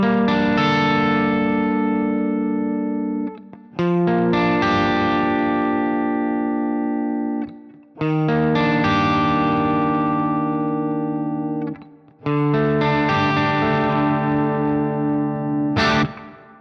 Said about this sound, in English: Yeah, and you hear that nice subtle reverb on there.